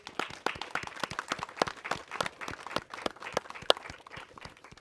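A small audience claps at a film premiere Q&A, with dense, steady, fairly quiet applause that holds for several seconds and has no voices over it.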